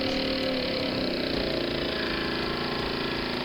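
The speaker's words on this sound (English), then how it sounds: "It's a steam engine after all, not a jet engine." A Mamod TE1A model steam engine runs flat out with a steady, dense mechanical whir and hiss, continuous and close, with no talk over it.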